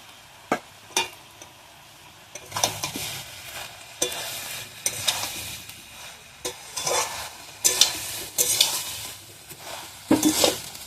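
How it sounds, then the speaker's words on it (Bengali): Banana stem curry with fried prawns being stirred in a frying pan in a village kitchen: a soft sizzle runs under repeated scraping spoon strokes that come in irregular bursts, close and moderately loud, with no voices. "ভেজে রাখা চিংড়ি মাছটাও দিয়ে দিলাম।"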